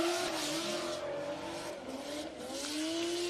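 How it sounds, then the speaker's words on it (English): Drift cars' engines screaming at full throttle during a drift battle, two cars' sustained high revs with rising and falling pitch, loud and continuous with no talk. "Samo gas se sliši iz teh dveh avtomobilov"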